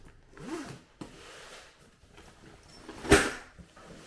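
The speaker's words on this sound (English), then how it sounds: "So let me get that unzipped for you." A zipper is pulled open on the middle section of a carry-on suitcase, with soft handling rustles and bumps and one sharp, loud zip burst near the end, close to the microphone.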